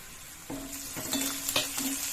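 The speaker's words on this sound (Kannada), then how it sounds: "ಈಗ ಹಸಿಮೆಣಸಿನಕಾಯಿ ಹಸಿಮೆಣಸಿನಕಾಯಿನ ಹಾಕೊಂಡ್ಬಿಡಿ" Green chilies hit hot oil in a pan while Maggi noodles are being made desi style: a steady sizzle with a few scraping stirs and light clinks, close and alone.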